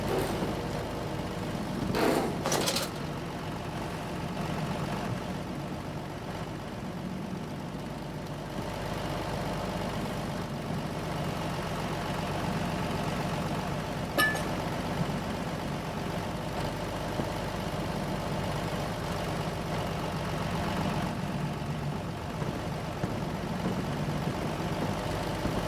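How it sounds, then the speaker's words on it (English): A truck engine idles loudly in the Amnesia: Amadeus horror game, giving a continuous low rumbling drone that holds steady throughout, with a couple of brief clanks early on and a faint tick midway. "This truck is really loud."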